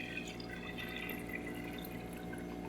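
Four cups of water being poured into a pot for tortilla soup, a faint continuous trickle with light drips throughout, no voices.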